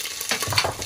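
Green chili, garlic and minced ginger hit hot oil already holding cumin seeds, giving a brief, bright burst of close sizzling that swells toward the middle.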